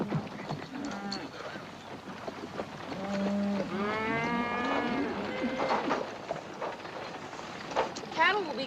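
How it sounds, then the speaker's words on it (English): A herd of cattle being driven to water on the trail in a Western film, lowing in several long, loud moos one after another, with some overlapping calls and background commotion. "Cattle will be glad to get a drink."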